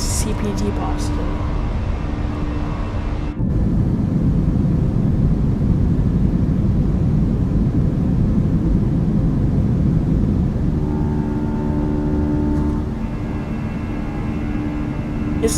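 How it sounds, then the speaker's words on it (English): Eurowings A320-200 jet engines in the MSFS 2024 flight simulator, a steady loud roar with broadband rumble throughout, shifting in tone partway through. "This is the best sounding airplane you guys would ever hear."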